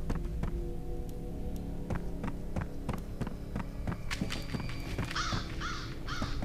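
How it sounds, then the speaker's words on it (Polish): Ravens caw in the F.E.A.R. video game, a few harsh calls near the end over a steady ambient bed with regular thudding steps. "Kruki."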